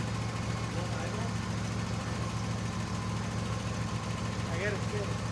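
A John Deere S140 lawn tractor engine idles steadily after sitting all winter, a close, even low rumble and hum with no change in pace.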